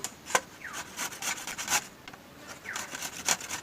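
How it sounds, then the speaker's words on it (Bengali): A carrot rubbed down a grater in repeated rasping strokes, each scrape a short dry burst with brief pauses between, close and fairly quiet with no talking. "তো দেখো এখানে কিন্তু আমি একটা গাজর নিয়েছি, গাজরটা কিন্তু গ্রেট করে নেব"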